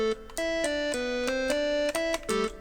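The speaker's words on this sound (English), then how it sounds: "this is just like a simple ARP that I made" A bright chiptune-style synth arpeggio from the Serum preset Arcader, tones stepping rapidly in a repeating rhythmic pattern, clear and upfront with short gaps between phrases.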